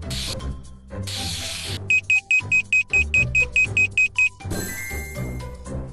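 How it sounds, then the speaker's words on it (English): An alarm going off in the puzzle game Impossible Date 2: a rapid run of about a dozen sharp, regular electronic beeps, loud and evenly spaced, set between bursts of game sound effects. "Trigger the alarm."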